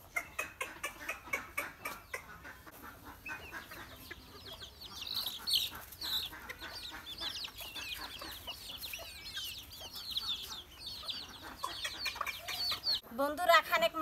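Chickens cluck and squawk in short, busy bursts while being fed fish scales in a village yard, close and fairly loud, with rhythmic scrubbing sounds at the start and a voice talking.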